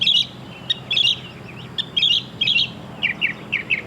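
A mockingbird sings a varied run of short, bright chirps and trills, mimicking other birds such as a scrub jay, bluebird and scissor-tailed flycatcher, with repeated phrases in quick bursts over a quiet outdoor background.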